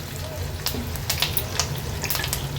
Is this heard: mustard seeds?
yes